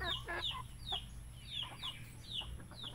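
Chickens cluck in a farmyard, short repeated calls from a few birds in quick succession over a low background hum, fairly quiet and with no one speaking.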